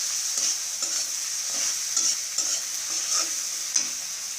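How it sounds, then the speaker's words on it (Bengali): Turmeric, chili and coriander powder stirred in a frying pan while making singara filling, a steady sizzle with soft scraping strokes recurring about every half second, close and continuous. "হলুদের গুঁড়ো, মরিচের গুঁড়ো দিয়ে দিচ্ছি ধনিয়ার গুঁড়ো। নাড়াচাড়া দিয়ে নিচ্ছি আবারও।"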